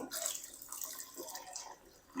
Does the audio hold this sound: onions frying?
no